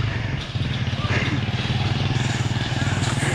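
A motorcycle engine labors with a steady, throbbing low chug while climbing a muddy, potholed uphill road, close and continuous, with voices faintly around it.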